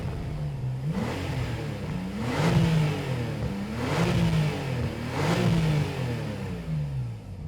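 A Porsche 911 Turbo of the 997.2 generation on its standard stock exhaust revs up three times in a row, each rise swelling and falling back to a steady idle between, loud and close with no talking.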